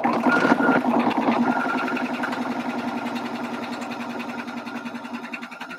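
Sewing machine stitching a cinch bag, a close, rapid, even mechanical whirr of continuous stitching that slowly eases in loudness, heard alone without talk.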